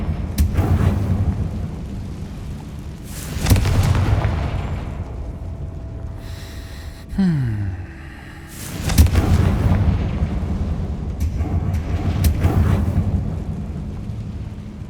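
Fiery Confringo spell blasts from the video game Hogwarts Legacy, heavy booming explosions at roughly 1, 3.5, 9 and 12 seconds with rumbling tails, a brief rising whoosh between, all without talk.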